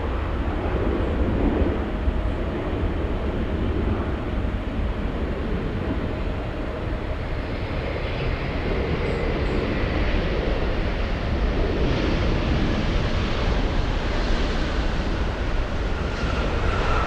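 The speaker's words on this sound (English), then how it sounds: "Triple seven on final approach. We have Austrian 81 flying in from Vienna." An Austrian Airlines Boeing 777 arriving from Vienna on final approach to LAX produces a loud, continuous roar and rushing rumble, steady throughout, mixed with wind buffeting on the microphone.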